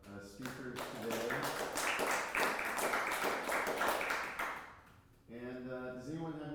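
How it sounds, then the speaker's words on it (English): Audience applause at the close of a fitness-professional talk: a short burst of clapping from a small group, fading after about five seconds, with voices speaking at the start and again at the end. "big round of applause for all of our speakers today"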